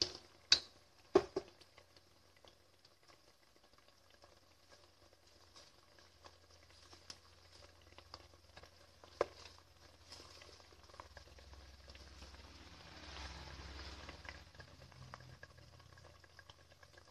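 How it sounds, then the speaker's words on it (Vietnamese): Pineapple for jam simmering in a pot, a soft, quiet bubbling with scattered small pops and a few sharper spits near the start, the boil growing a little busier toward the end. "thơm sôi lên rồi nè"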